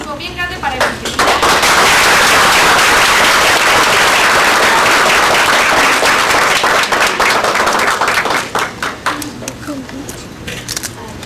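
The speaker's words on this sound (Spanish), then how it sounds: "les voy a pedir un aplauso bien grande para Evangelina" A large audience at an evening gathering in honor of Evangelina breaks into loud, sustained applause that fills the room, then thins out into scattered claps toward the end.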